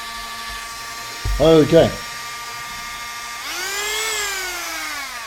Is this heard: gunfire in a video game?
no